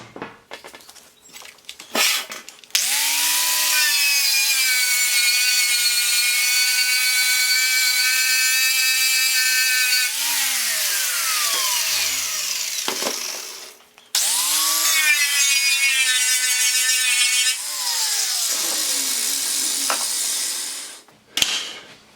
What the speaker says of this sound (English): let's just see the difference between using just a straight wire wheel, and then we'll do a section using a strip and clean disc